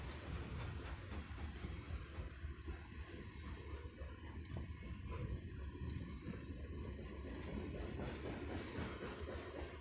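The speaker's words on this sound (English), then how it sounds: "this looks to be a 2x1 northbound load of coal on State Street at Clearfield Front Runner Station" Northbound coal freight train with two locomotives up front rolling past on State Street at Clearfield FrontRunner Station: a low, continuous rumble with faint wheel clatter, heard from a distance at a steady level.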